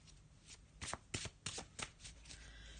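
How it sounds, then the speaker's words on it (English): A black and white Faulkner tarot deck is riffled and shuffled by hand in a quiet room, giving five or six quick papery bursts in an uneven rhythm, close and fairly soft. "I'm going to have a shuffle of the black and white Faulkner deck"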